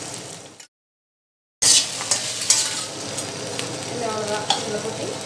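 Ground spice powder is stirred into rice in a pan, a brief dropout followed by busy scraping and sizzling with sharp clinks of a spoon against the pan.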